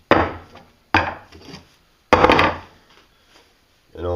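Tin snips cut a circle in a tin can for a homemade wood gas stove, producing three separate sharp, close metallic crunches with short pauses between them, followed by a brief voice at the very end.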